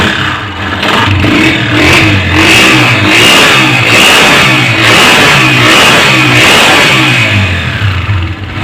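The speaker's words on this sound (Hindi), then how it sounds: "अब हम इसको रेस भी देंगे, बाइक को एक्सीलेटर दे के चेक करेंगे।" A Honda CG 125 motorcycle engine revs up and down repeatedly, a loud, steady mechanical roar with rhythmic throttle surges and no talking.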